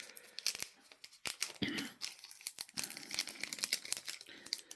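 A Yu-Gi-Oh card pack's foil wrapper gets torn open close up in a few quick rips, mixed with crinkling and crackling as it is handled.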